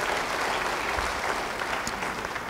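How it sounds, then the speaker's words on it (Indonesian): A church congregation applauds during a sermon, a continuous, fairly soft wash of many hands clapping with no voices over it. "Yang mau beri tepuk tangan bagi dia."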